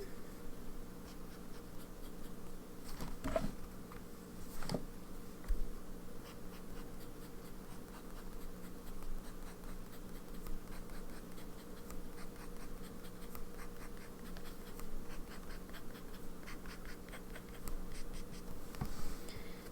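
A white and rose-gold TWSBI Eco fountain pen with a medium nib scratches steadily across paper, soft continuous strokes with a few sharper taps, close and quiet.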